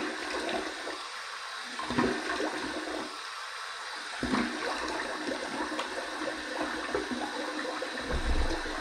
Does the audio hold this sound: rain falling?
no